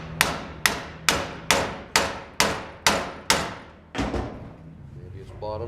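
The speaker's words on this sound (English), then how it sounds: "And I'm going to hammer on the other part of the drive line." Seven sharp metallic hammer blows ring out at a steady rhythm against a vehicle drive line held in a vise during U-joint replacement, each strike loud and close with a short decaying ring, followed by a duller thud and faint rattling.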